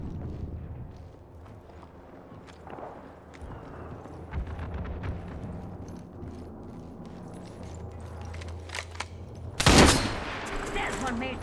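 Gunfire from enemy bots in Apex Legends battle royale, a faint patter of shots running under game audio with one loud burst near the end.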